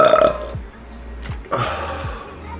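A man lets out loud, close burps, two or three raspy belches with short pauses between them and no talking over them.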